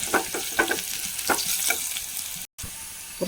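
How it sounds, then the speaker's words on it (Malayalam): Chopped onion sizzles and fries in a pan with a pinch of asafoetida, with steady crackling and a few stirring scrapes, close and moderately loud. "ഒരു നുള്ളി കായത്തിൻ്റെ പൊടി ഇട്ട് കൊടുക്കാം ഉള്ളി ഒന്നും ഒന്നും കൂടി ഒന്ന് മൂത്ത് വന്നോട്ടെ"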